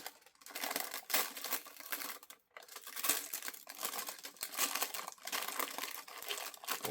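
Transfer foil is peeled away in a quiet, continuous crinkling and crackling rasp with small tearing pulses and one brief pause, close to the microphone and without talk.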